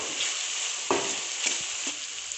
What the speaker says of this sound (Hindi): अब हम इसमें लहसुन का पेस्ट शामिल करेंगे और इसको फ्राई कर लेंगे।